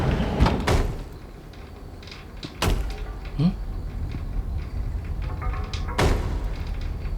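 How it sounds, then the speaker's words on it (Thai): In the horror video game The Baby in Yellow, someone bangs on a door with a few heavy, booming thuds spaced several seconds apart, set against a murky ambient background. "เสียงใครทุบประตูวะ"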